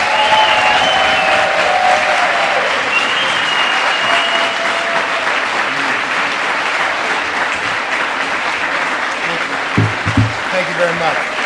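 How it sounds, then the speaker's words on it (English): A large audience at an Urban League awards event applauds loudly for an honored guest, a thick continuous wash of clapping with some cheering, and a few voices and thumps surfacing near the end. "please give a large, great Wilmington pride round of applause for Mr. Marc Morial."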